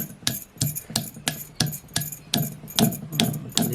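Karvanda berries for chutney are crushed on a traditional Konkan grinding stone, the stone pounding and rubbing in about ten regular, close, gritty knocks with no talking.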